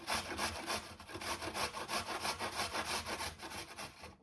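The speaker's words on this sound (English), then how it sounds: "So now all I do is I grate this Yacon" Yacon root grated by hand on a kitchen grater, a steady run of quick rasping strokes in regular rhythm, close and fairly loud with no talking.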